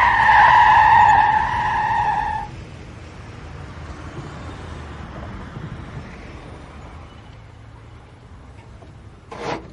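A car zigzags and skids with a loud, high tire squeal for the first two seconds, then fades into a low engine and road rumble, ending with a brief sharp noise.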